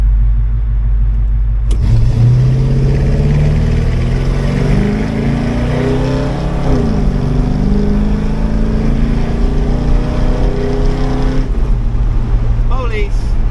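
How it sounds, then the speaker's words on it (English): A 1985 Chevrolet K20 truck with an Edelbrock 1906 AVS II carburetor, idle mixture screws adjusted, is floored at full throttle, its engine roaring up in pitch through rising revs for about ten seconds, loud and close, before dropping back. "I'm gonna floor it and we're gonna see if it bogs."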